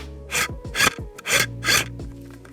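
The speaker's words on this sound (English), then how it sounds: "this is the sound it makes when it actually focuses" A camera lens autofocus motor whirs and grinds in four distinct bursts as it hunts for focus, each a short rasping buzz close to the microphone, with no one speaking.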